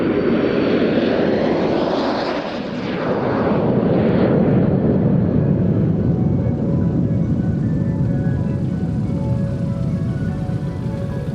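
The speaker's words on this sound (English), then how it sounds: "they fly these Aero L-39C Albatros jets, a military training aircraft that combines elegance with speed and control" Aero L-39C Albatros military training jets of the Baltic Bees Jet Team roar past at an air show, a loud steady broadband engine rush that swells and holds for several seconds, with a faint whine riding above it.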